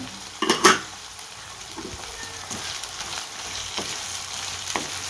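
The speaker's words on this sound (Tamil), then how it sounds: "எல்லாத்தையும் சேர்த்து நல்லா வதக்கி விட்டுடலாம்" Chicken tikka biryani masala with mint and coriander sautéed in a pot, a continuous sizzle broken by several sharp spoon-against-pan clatters, loudest near the start, close and without talk.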